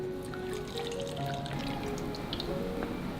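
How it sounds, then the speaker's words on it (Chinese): Blended mint juice strained through a sieve, a steady close trickle and dribble of liquid with scattered drips and faint clinks. "打好了，过滤出来"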